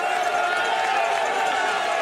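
Steady crowd murmur at a men's cyclo-cross World Cup race in Namur, a dense continuous wash of spectator noise with a commentator talking over it throughout.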